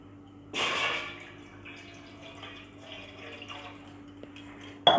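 A glass of water is poured into a pot on a lit gas stove while making veg dum biryani, a brief close splash followed by a softer settling trickle, then a sharp clink at the end.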